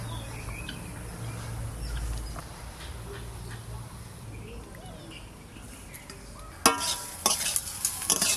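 Fish fries in leaves alongside potatoes in a pan with a faint, low sizzle, followed near the end by louder clatter from stirring.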